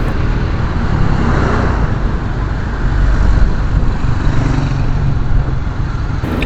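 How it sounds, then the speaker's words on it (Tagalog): A bus from Kalinga rumbles past on a street in Bontoc, a loud, continuous engine and road roar close by with a steady wash of traffic noise and no voices. "Galing Kalinga itong bus."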